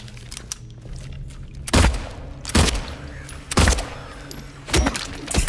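Silent Hill 2 gunshots ring out four separate times, each a loud, sharp, booming blast spaced about a second apart over quiet ambient noise.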